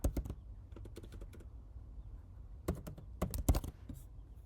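A computer keyboard being typed on to enter a password, with a few quick clustered keystrokes at the start, a pause with scattered single taps, then another short burst of clicks, close and clear with no talking.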